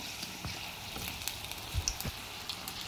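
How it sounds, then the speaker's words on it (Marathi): Karanji pastries frying in hot oil, a steady soft sizzle with faint crackles and small bubbling pops throughout, fairly quiet and without talk. "आता आपल्याला व्यवस्थित अशी थोडी लाल पडेपर्यंत तळून घ्यायची आहे"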